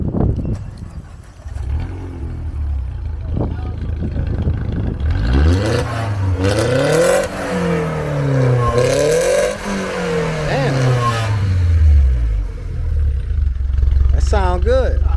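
A fully built, turbocharged BMW X6M is revved hard, close by. The engine roars up and down through several sweeping rises and falls, and people talk nearby.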